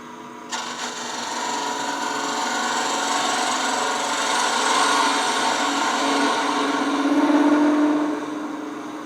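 A power drill with a 7/8 inch bit spins up and bores into wood with a steady, loud whirring grind that deepens slightly as it cuts, heard close up.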